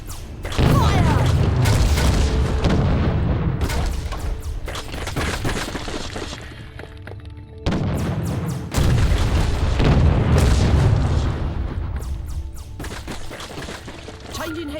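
Deep cannon booms and crashing explosions roll through a ship battle in Treasure Planet: Battle at Procyon, loud repeated blasts in two long bursts with clattering debris.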